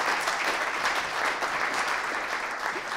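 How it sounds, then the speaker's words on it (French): An audience at an awards ceremony applauds steadily for a few seconds, with dense, even clapping from many hands filling a hall. "Vous pouvez applaudir pendant que le photographe officie"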